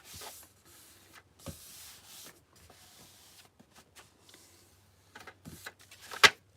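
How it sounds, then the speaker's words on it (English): Soft, intermittent rubbing as a craft sticker is smoothed down onto a wooden wildflower sign, faint brushing strokes in short bursts with a sharper scrape near the end. "I'm just smoothing it down."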